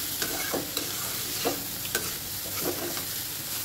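Beans being stir-fried in a pan give a steady sizzle, broken by repeated scraping strokes of a spatula roughly every half second, close and moderately loud.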